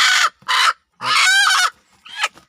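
An agitated, aggressive broody hen sitting on a clutch of eggs lets out loud, harsh squawks and clucks at close range in a few sharp bursts with short gaps between them.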